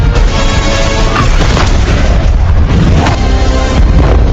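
A loud, dense explosion roars continuously in a Black Adam superhero film scene, heavy low rumble filling the whole stretch with debris-like crackle and no speech.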